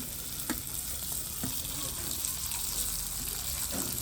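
Mustard seeds, onion and dried red chillies frying in hot sesame oil give a dense, loud, continuous sizzle close by, with faint clinks of stirring and no clear speech.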